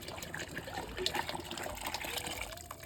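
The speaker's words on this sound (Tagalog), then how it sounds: "dito na po lulutuin sa kumukulong tubig" Water boils in a pot while cassava starch is cooked, a soft, steady bubbling and gurgling churn that stays fairly faint and continuous.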